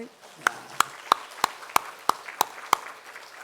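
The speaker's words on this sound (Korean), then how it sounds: "우리 성가대 향해서 박수 한번 더 칩시다." A church congregation claps for the choir during a Sunday morning service: eight sharp, evenly spaced claps in a steady rhythm over a quiet background.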